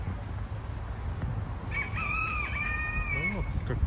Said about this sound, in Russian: Вот какие горластые.